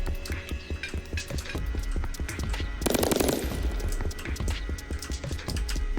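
A Tommy gun firing in a PC video game, rapid sustained automatic bursts with a short louder burst partway through, close and prominent.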